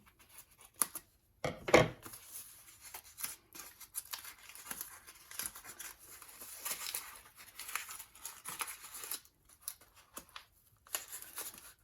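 Paper towel crinkles and tears in irregular bursts at close range as a wrapped gift is opened, with a louder rip early on and softer rustling handling sounds after.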